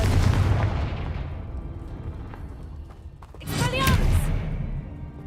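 A Confringo fire spell in Hogwarts Legacy erupts as a loud, bright burst with crackling, whooshing sparks for about a second, under a busy wash of combat sound.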